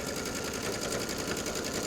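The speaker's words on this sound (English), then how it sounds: "I'm just going to stitch basically on top of my first stitch line" A sewing machine stitches steadily along a welt pocket on garment fabric, a continuous close whirring with a fast even needle rhythm and no pauses or talk.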